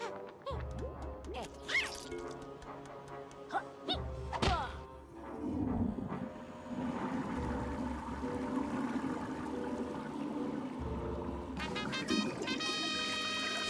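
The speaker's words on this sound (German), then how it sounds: "Dann aktivieren wir doch einfach noch einmal die Spülung." A toilet flush in the video game Yooka-Laylee, a rushing watery gush that swells after a few thuds and game effects, with a musical jingle at the end.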